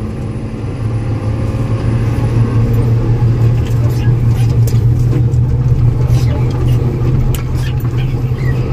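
Steady roar of road traffic stuck in a jam, engines idling and rumbling close by with a strong low hum throughout, loud and continuous without a break.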